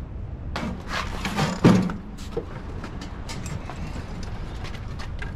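A cover is worked loose and pulled off a John Deere 826 snowblower, giving a series of close metallic clunks and rattles with one sharper knock, then quieter scraping and handling.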